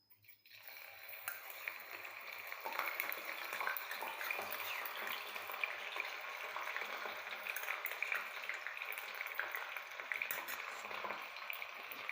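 Pieces of aloe vera and fenugreek seeds fry in hair oil, giving a soft, steady crackling sizzle with scattered tiny pops, quiet and continuous throughout.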